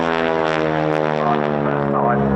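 A two-seat warbird propeller aircraft at a flying display at the RAF Cosford Air Show gives a loud, steady, droning engine note that holds close and even throughout.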